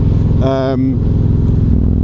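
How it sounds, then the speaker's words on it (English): A motorcycle engine rumbles steadily and loudly while riding, with a brief tonal voice rising over the continuous low drone. "It's always awesome to have that classic engine rumble on a ride."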